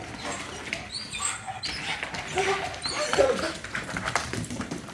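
A dog in bite training with a handler makes short whines and scuffling noises amid rustling. People talk and call out nearby.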